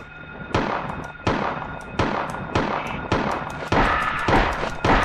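Rapid gunshots from the Silent Hill PlayStation 1 game, about seven sharp loud cracks in a steady rhythm roughly every half second to second, each with a short echoing tail, and no talk.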